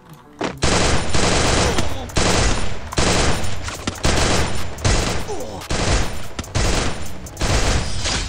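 Loud, rapid MP40 submachine gun bursts from the Free Fire video game fire in repeated sustained volleys separated by brief gaps.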